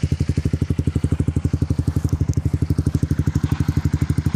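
A 2011 Honda CBR125R motorcycle with the exhaust baffle removed idles close by, its small engine thumping out a fast, steady, even pulse of loud exhaust beats throughout, with no talking.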